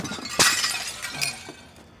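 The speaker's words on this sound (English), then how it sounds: "the shock factor of the midpoint when Dave breaks Fern's plates" Ceramic plates shatter in two sharp crashes, the first loudest, each followed by scattering shards and a fading rattle.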